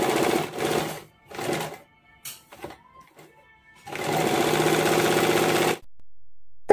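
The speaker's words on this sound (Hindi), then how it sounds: "बिल्कुल दोनों साइड की तरफ से बराबर आकर सिलाई करना है।" Sewing machine stitching a padded princess-cut blouse runs in two short bursts, pauses with faint handling, then sews one long steady close run before stopping.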